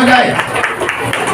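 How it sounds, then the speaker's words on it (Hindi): Applause for a student singer at a Teacher's Day 2021 celebration: dense, steady clapping from a group across the whole short stretch, with voices mixed in. "जोरदार तालियां हो जाए"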